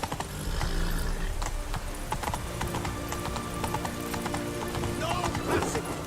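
Roach the horse in Witcher 3 trotting along, steady clip-clop of hooves on hard ground close by, with scattered ambient game sounds and a faint snort.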